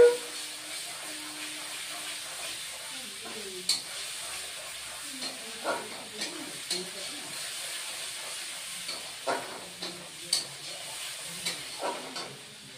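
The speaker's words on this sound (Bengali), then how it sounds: "এখন লঙ্কা বাটা দিচ্ছি।" Chili paste goes into a hot frying pan for a vegetarian potol posto dish, a steady sizzle and hiss running throughout with repeated scraping stirs of a spatula, close and moderately loud, no talking.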